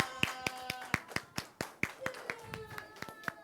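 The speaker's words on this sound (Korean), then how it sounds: "우리 박수로 함께" Children's Sunday service congregation clapping to welcome newcomers: a steady run of sharp, distinct hand claps at moderate pace, fairly close, with light voices underneath.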